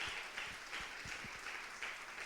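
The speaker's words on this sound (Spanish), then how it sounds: "denle un aplauso al Señor" A church congregation claps together during a sermon, a soft, steady patter of applause with a few sharper individual claps, heard from a distance.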